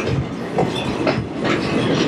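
A steam train runs on the Greenfield Village rail line, its carriages rumbling steadily with a rhythmic clickety-clack of wheels over the track, close and fairly loud.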